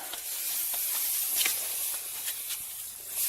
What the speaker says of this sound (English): I like to put some brake cleaner